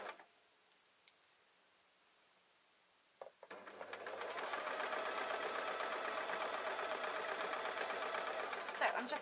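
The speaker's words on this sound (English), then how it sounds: "I'm going to lift up my foot of the sewing machine" A domestic sewing machine stitches a fabric slipper bootie, starting after a quiet pause with a few clicks, then running steadily and close for several seconds with a dense mechanical whir and rapid needle ticking.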